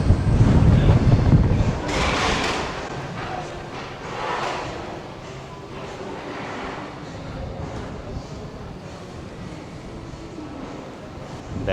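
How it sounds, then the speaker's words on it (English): Strong wind buffeting outdoors beside a statue outside a market in Preston, loud blustery rumble hitting hard at first and then settling into a steady rushing roar. "it's so windy"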